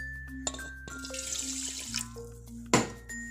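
Water runs and splashes into a bowl as millets are rinsed in a kitchen, a steady close stream with a brief louder splash near the end and background hum.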